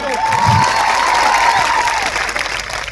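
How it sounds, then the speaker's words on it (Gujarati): A crowd at an outdoor political rally claps loudly and steadily, with some cheering and a tonal whistle or feedback line running through the applause. "એમના માટે જોરદાર આપણે તાળીઓ પાડી લો"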